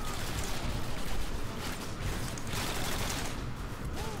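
Fast-firing gun in Modern Warfare 2 letting off dense, rapid bursts of shots, loud and close, blending into a continuous rattling barrage.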